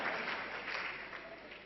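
Hands clap together in a steady round of applause at a seminar, sounding fairly faint and continuous for a brief moment with no voice over it.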